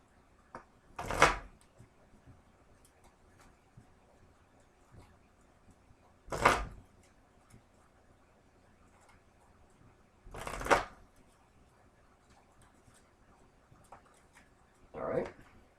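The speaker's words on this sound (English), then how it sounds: "So I'm just going to shuffle up for that N." A deck of Pokémon trading cards riffle-shuffled by hand during a game, four separate quick bursts of card flutter with quiet pauses in between, close and fairly crisp.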